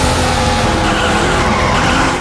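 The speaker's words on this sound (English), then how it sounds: "Some of the sound effects, namely your engine rumble at the start, some skidding noises, and worst of all, the echo in the tunnel" Game engine rumble and tire skidding from the Daytona USA PC racing game form a loud, continuous, dense roar with a sustained squealing skid throughout.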